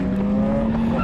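A drifting car slides sideways with a steady, loud tire squeal over engine roar, one sustained screech lasting about a second.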